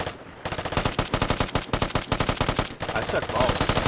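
Fast bursts of automatic gunfire in a shooter game, loud and rhythmic, steady rattling shots through most of the stretch with game noise underneath.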